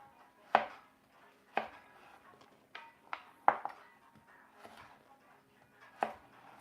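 A knife chops celery on a cutting board in sharp, irregular knocks, about seven strokes spaced a second or so apart, close and clear.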